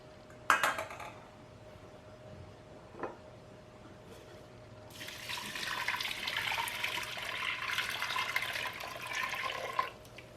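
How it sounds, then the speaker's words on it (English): Corn juice is poured into a pot with sweet rice, a soft steady liquid rush lasting several seconds after a couple of faint clinks, fairly quiet and close. "Add sweet rice to the pot and all of the corn juice."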